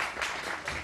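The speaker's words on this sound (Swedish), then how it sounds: "Det är dags att ge en stor applåd till Najib Mahmoudi." An audience at an accordion festival in Vänersborg applauds a performer on stage. The brief clapping is a fairly faint, even wash with no voices over it.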